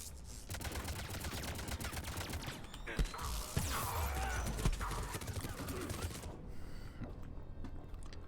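Rapid turret fire from the game Mass Effect 3 rattles on in dense bursts with mechanical clatter and a few heavier thuds, ending in a quieter tail.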